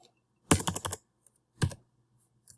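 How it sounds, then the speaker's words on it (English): Fast typing on a computer keyboard in a quiet room: a quick run of clattering keystrokes, a pause, then a second short burst and a final light tap, close up with no voices. "please excuse my typing."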